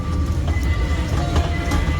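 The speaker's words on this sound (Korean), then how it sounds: "기차가 덜컹덜컹" A children's ride-on train at the Paju outlet rattles and clatters steadily along its track, a continuous rumbling clickety-clack with faint squeals, loud and close with no talking.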